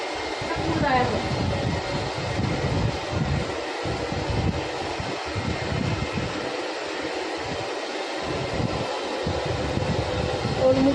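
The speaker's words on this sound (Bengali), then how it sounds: "ওটা কুল ড্রায়ার হচ্ছে, আমার স্পা করার পরে হট ড্রায়ার দিতে নেই" Steady, loud whoosh of a professional hair dryer on its cool setting, blowing over hair after a hair spa treatment, running continuously throughout with voices talking over it.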